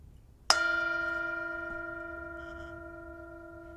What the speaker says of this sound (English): Just enjoy the sound of the bell.